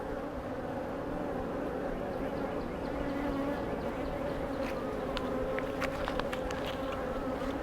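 A dense, steady buzz of many honeybees close by around a hive, continuous and droning, with a few faint clicks and soft background murmurs.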